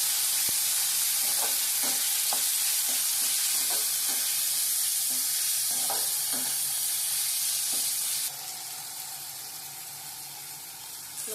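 Chopped tomatoes sizzling in a hot pan for prawn thokku, with a spoon scraping and stirring in several quick bursts over a steady frying hiss that drops slightly near the end.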